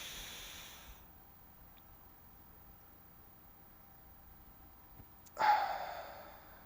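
A person demonstrates blocked breathing during weight training: a soft exhale fades out, a long held silence follows, then a sudden loud breathy release of air bursts out.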